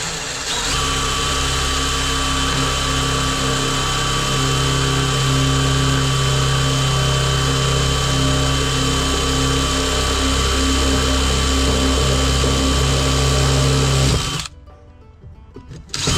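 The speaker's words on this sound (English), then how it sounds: "When you're drilling these holes, guys, in this fiberglass, go ahead and set your drill to high speed" A power drill runs at high speed boring holes in fiberglass, a loud steady whine with a droning hum for about fourteen seconds before it cuts off abruptly and the room goes quieter.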